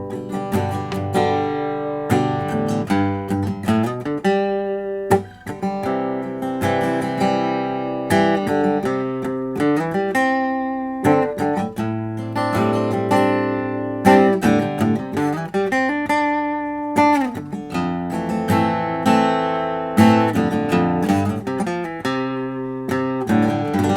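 Guitar plays arpeggios over a four-chord progression, two basic chords and two chord extensions, as steady, rhythmic plucked notes that ring continuously and fairly loud, with no voice.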